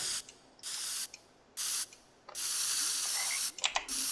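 Spray can bursts in the game Teardown: several hissing sprays of varying length separated by short pauses, the longest near the end, followed by a few quick rattling clicks, close and isolated.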